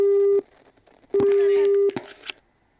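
Telephone busy tone after a call is hung up: two long steady beeps with a gap between, loud and clean, then a faint tail of background noise.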